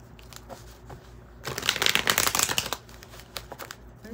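Tarot cards riffle and slap together in a dense, crackling burst during a reading, loudest in the middle, with quieter card flicks before and after.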